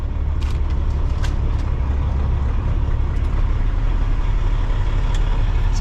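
A loaded truck drives along with its engine running, giving a continuous low, rumbling drone close by, with a few faint clicks and rattles over it and no talk.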